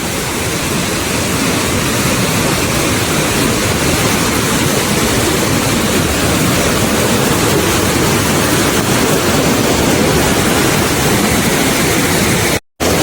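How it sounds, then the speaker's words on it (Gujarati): Water from the overflowing Shetrunji dam pours over the gates in a loud, steady roar of rushing, churning water that stays continuous and close, with no voices, cutting off for a moment just before the end. "બધા જ બારણાની ઉપરથી પાણી જાય છે અને બહુ જ સ્પીડમાં પાણી જાય છે"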